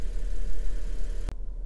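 A Lexus IS 250 with a 2.5-litre engine idles steadily, a smooth, even low hum close by that holds constant, broken once by a brief sharp click near the end.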